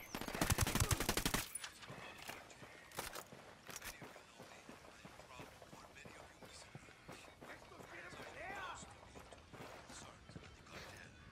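Gunfire in the video game Ghost Recon Wildlands: a dense burst of rapid automatic shots up front, followed by scattered sharp cracks and footsteps under faint background game sound.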